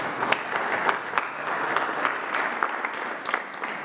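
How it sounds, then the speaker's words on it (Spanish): Steady applause from a crowd at a government press briefing in the National Palace in Mexico City, a dense patter of clapping hands filling the space without pause, with no one speaking over it. "Un aplauso a los gobernadores."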